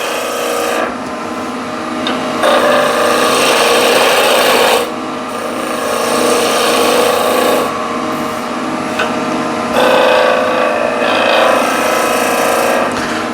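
A sharpening wheel grinds against a tool on its smallest diameter step, producing loud, close rasping passes that start and stop in several bursts over a constant motor hum.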